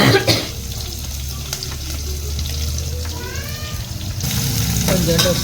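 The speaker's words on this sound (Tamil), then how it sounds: "கொஞ்சோண்டு உப்பு போட்டு நல்லா இதை கொஞ்சம் வதக்குங்க" Onions sauté in a pan with curry leaves and a little salt, a steady close sizzle with stirring clatter and scraping throughout, while a person talks over it.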